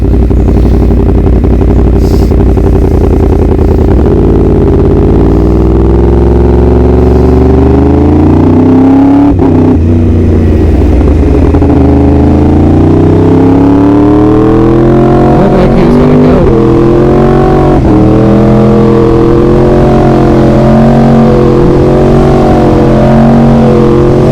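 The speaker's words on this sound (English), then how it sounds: "absolutely love the sound of this bike. It sounds absolutely insane." A Yamaha R1 sport bike engine runs loud and close, holding a throaty, steady drone, then climbing and falling through several rev swells, with harsher blips toward the end and no talking.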